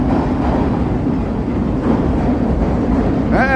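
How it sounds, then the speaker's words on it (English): A Chicago CTA Brown Line elevated train crossing a river bridge near Wells Street, a loud steady rumbling roar of wheels on steel with a brief squeal at the very end, heard close from the street. "Sound of the elevated train crossing the river there."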